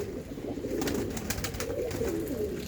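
Pigeons for sale cooing close by, a dense run of low rolling coos overlapping without pause, with light faint clicks above.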